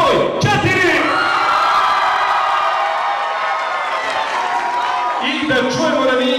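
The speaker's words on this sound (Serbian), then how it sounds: "Da čujemo podršku i navijanje za par" A school hall audience at a Pančevo gymnasium and music school event cheers loudly for a competing pair, a dense roar of shouts and whoops that swells, holds, and briefly resurges near the end.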